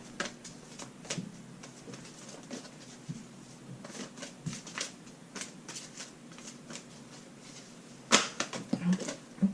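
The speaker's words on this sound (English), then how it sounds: "While I shuffle, first card." Cards being shuffled, soft riffling and flicking bursts repeated several times, close and quiet, with a sharper flurry near the end.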